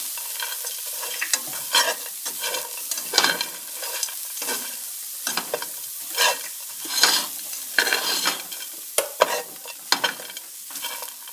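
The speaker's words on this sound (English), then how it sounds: "I'm just going to mix this all around with the onion until it's all nice and warm and not frozen anymore" Frozen fake-meat filling stirred with onion in a frying pan, with continuous close scraping and clattering of a utensil over a bright, crackling sizzle throughout, without speech.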